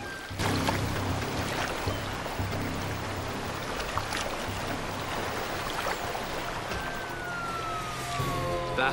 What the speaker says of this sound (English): That's the sound of a sheriff's patrol car